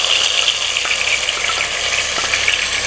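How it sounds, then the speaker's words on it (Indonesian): Ground spice paste sizzles and fries in hot oil in a pot for an Indonesian beef empal gentong, a steady close crackling hiss with no talk. "Saya tumis langsung menggunakan panci saja supaya praktis ya."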